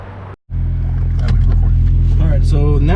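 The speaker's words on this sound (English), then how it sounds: "now the Focus is on. As you could probably hear, it's very loud" A modified Ford Focus RS engine starting up and idling loudly, a brief cut of silence followed by a strong, steady low-pitched rumble that fills the clip, close by, with faint talking over it.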